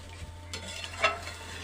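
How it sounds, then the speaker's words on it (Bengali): Fish curry (rui macher jhol with fried potato and pointed gourd) being stirred in a pan right after water is added, a soft brief scraping stir with one louder scrape midway over a low steady hum. "জলটা দেওয়ার পর এবারে খুব সুন্দর করে একটু মিশিয়ে নিচ্ছি।"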